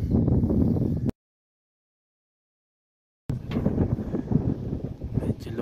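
Strong wind on a mountain summit (Mt. Cabuyao, near Baguio) buffets the microphone in loud, continuous gusts, drops out to silence for about two seconds, then roars back with rumbling bursts.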